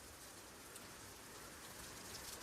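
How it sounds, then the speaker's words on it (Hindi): Steady cool rain pours down with wind, a dense, even hiss of falling drops filling the whole stretch, with no voices and no pauses. "अब एकदम से तेज आ गई। वाह, अब बस ये कम ना हो, क्योंकि आज ना ठंडक वाली बारिश है"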